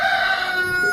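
Free-range chickens on a homestead farm give a steady, close-up crowing call that holds a bright tone for about a second, with no talk over it.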